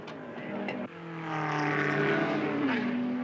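Race car engines on a practice track in 1971 Bathurst preparation, a close engine note that cuts out briefly then surges back, rising steadily into a loud sustained rev.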